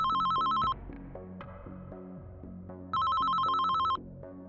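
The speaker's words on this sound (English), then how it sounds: "Phone call." A phone rings in the horror game Mind Corruption Bureau, with two loud electronic ring bursts separated by a pause over low in-game background sound.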